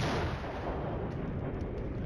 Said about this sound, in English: We're drawing artillery onto some BRDMs.